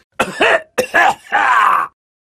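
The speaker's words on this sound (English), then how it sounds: "The old man coughed." An old man's rough, throaty coughing in three hoarse bursts, close and loud, with groaning vocal tone and short pauses between.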